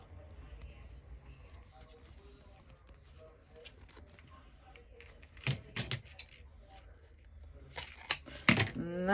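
Heavy-duty crafting scissors snip through wired ribbon for a Halloween mesh wreath, giving a few sharp, close cuts and crunches near the end over quiet rustling and faint background talk.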